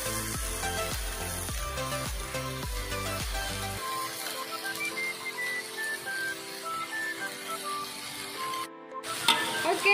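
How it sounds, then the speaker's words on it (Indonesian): Water spinach and bean sprouts are stir-fried in a pan, giving a steady soft sizzle beneath background music that continues through the whole stretch. "Oke, kita tumis sayurnya hingga masak."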